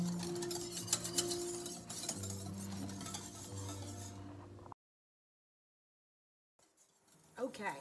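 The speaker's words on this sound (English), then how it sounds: "I'm going to continually stir, and after that minute, this is going to be done" A whisk scrapes and clinks steadily in a pot of banana pastry cream on the stove, stirring continuously under a voice and faint sizzling, then cuts to silence before a short return of stirring.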